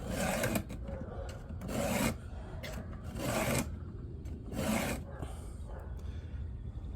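A file rasps against the teeth of a Stihl MS250 chainsaw chain in slow, deliberate strokes, about five distinct scraping passes with short pauses between them, close and fairly quiet.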